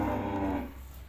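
A Limousin-cross beef cow or young bull at a livestock sale pen lets out a single low, drawn-out moo close by, and the call fades after about half a second.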